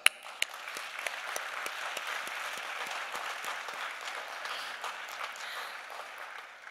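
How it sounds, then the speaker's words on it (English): Audience applause at a live-streamed Ghana diaspora gathering, steady dense clapping from a crowd that holds at an even level for several seconds, with a couple of sharper claps near the start. "I would like us all to give ourselves a big clap"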